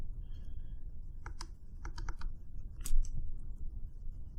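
Computer keyboard typing during JavaScript coding: a scatter of sharp key clicks and small clustered taps over a steady low background hum. No one speaks.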